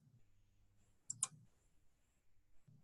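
A single mouse click on a Create button in database software, a quick sharp tick near the middle, with faint low-level room noise before and after.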